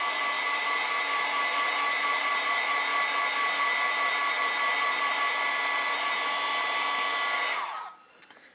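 A hair dryer blows a steady, loud whirring hiss close by while drying a mixed media journal page, running constantly before switching off and winding down near the end.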